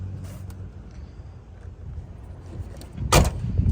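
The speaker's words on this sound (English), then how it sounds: "Doors close nicely." A 1993 Ford Mustang Fox body with manual windows has its door shut once near the end, a single solid thunk over quiet outdoor ambience.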